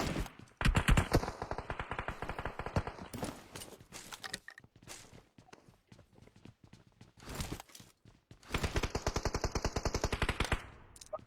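Automatic gunfire from a shooting video game rattles in two long rapid bursts, with lighter scattered shots in between.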